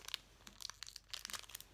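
A snack package of Chocobi is cut open with scissors, producing quiet, crisp snips and crinkling plastic in short bursts.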